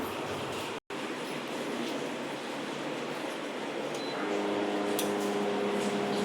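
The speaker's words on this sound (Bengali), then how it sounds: "চিমনি চালিয়ে দিলাম।" A steady broadband whoosh of a kitchen chimney exhaust fan running continuously, with a brief dropout early on and faint clinks near the end.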